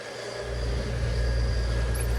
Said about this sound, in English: the car sounds smooth for the time being